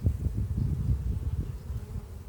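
Honey bees buzz steadily during an autumn hive inspection, a close, continuous low drone with slight pulsing and no talk over it.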